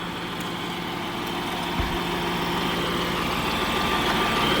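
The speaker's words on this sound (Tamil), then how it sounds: "இன்ஜின் சவுண்ட் பாருங்கள் சிஆர்டியில்." A New Holland 5630 CRDI diesel tractor engine idles steadily and close by, a low rumbling throb with constant mechanical vibration and no voices.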